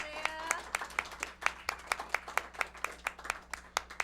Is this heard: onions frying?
no